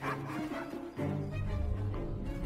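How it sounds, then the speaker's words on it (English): A dog in the video game Assassin's Creed Syndicate gives a few short barks and whimpering yips, fairly close, over a low rumbling game background. "I'm still hearing the doggy."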